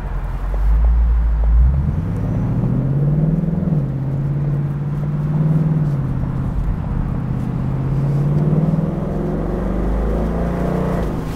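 A 2021 Ford Mustang GT convertible's engine rumbles loudly and close while driving in sport mode, with a deep low drone that rises and falls as the car accelerates and eases off.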